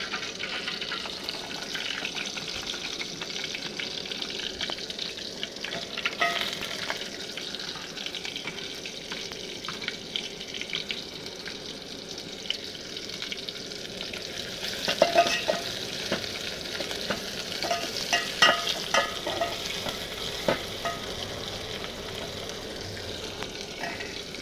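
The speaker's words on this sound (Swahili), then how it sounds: "I will karanga my kitunguu until it turn brown" Onions frying for pilau, a continuous close sizzle with scattered scraping and stirring clicks and some watery splashes throughout, no one talking.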